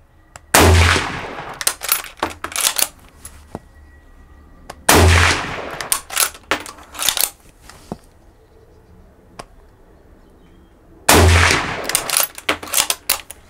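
A Mosin-Nagant Russian rifle is test-fired outdoors in three loud, sharp shots spaced several seconds apart. Each blast is followed by ringing echoes and metallic bolt clatter, with a quiet background between shots.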